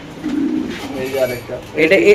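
A female pigeon at a pigeon market gives a few low, rolling coos close by, with people talking nearby.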